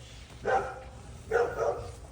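A dog barks at the neighbours from a backyard vegetable garden, two moderately loud barks spaced about a second apart, heard from a short distance.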